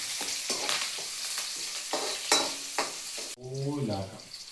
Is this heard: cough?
no